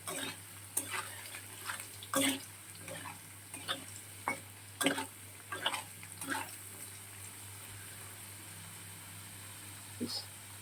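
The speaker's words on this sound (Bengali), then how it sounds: "আলুটা একটু লাল লাল করে বেশ ভেজে নেবো।" Potatoes fry in a pan, with a soft, quiet sizzle broken by scattered clinks and scrapes of stirring.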